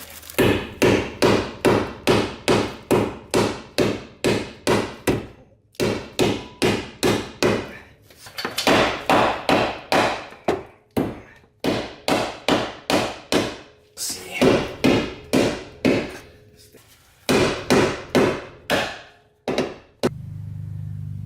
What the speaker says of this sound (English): now you need to get your hammer and start banging on that thing